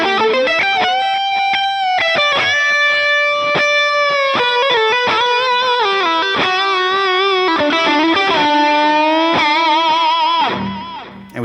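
Distorted electric guitar lead plays a melodic line of sustained, bending notes, loud and continuous, ending in a brief noisy flourish.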